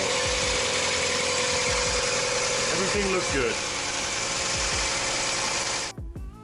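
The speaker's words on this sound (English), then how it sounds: "I'll let the engine run for a couple of minutes" A Mazda MX-5 NA Miata engine idles steadily after an oil change, with a constant low hum under brief speech, then cuts off abruptly near the end.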